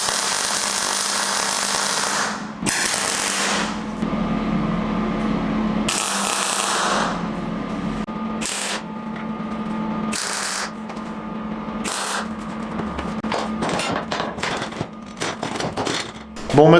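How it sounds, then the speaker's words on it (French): Tack welding on a metal workbench frame makes sharp crackling bursts of varying length, some brief and some lasting a couple of seconds, over a steady background hum in a workshop. "je vais pointer ma pièce de 4 côtés et ensuite on passera à la soudure"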